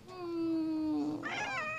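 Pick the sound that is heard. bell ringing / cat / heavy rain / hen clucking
cat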